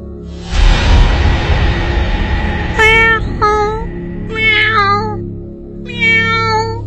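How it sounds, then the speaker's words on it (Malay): Several cats meow loudly outdoors, about five or six of them. After a low rumbling start come four or five drawn-out, wavering cries in quick succession, close and strong. "Dari jauh, Casey, saya terdengar bunyi suara kucing mengiau dengan kuat."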